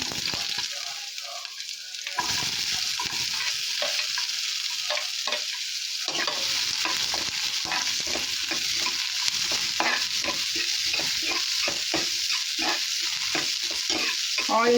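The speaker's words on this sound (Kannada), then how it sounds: "ಆಯಿಲ್ ಫುಲ್ ಚೆನ್ನಾಗಿ ಕಾಯ್ದಿದೆ ಇವಾಗ ಆನಿಯನ್ ಹಾಕ್ಕೊಳ್ಳೋಣ" Onions dropped into hot oil for a fenugreek-leaf gojju crackle and sizzle steadily, with a stirring spoon scraping the pan as the frying continues loudly up close.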